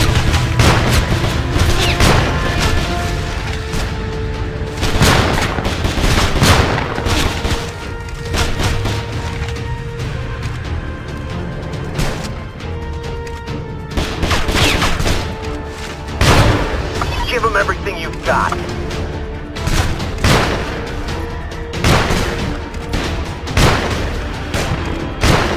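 Incoming RPG blasts and gunfire in the video game Frontline Commando 2, with repeated booming explosions, splintering cracks and bursts of shots over a constant battle din, and voices calling out between impacts.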